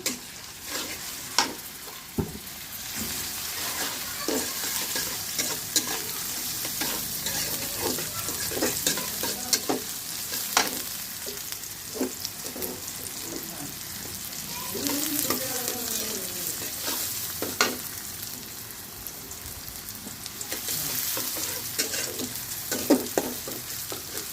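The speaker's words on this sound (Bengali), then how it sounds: "দারচিনি, এলাচ আর লবঙ্গ দিয়ে দিচ্ছি" Bay leaf, cinnamon, cardamom and cloves sizzle in hot oil while preparing spiced beef brain, a steady close crackle with scattered stirring scrapes and light clinks, no voices.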